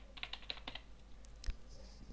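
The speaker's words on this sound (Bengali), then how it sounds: "তাই এখানে লিখে দিই pedit" Keystrokes on a computer keyboard entering the AutoCAD 2012 pedit command, a quick run of light clicks followed by one firmer tap, alone and close.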